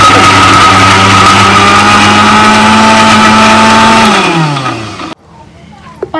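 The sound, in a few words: mixer grinder blending cashews and mint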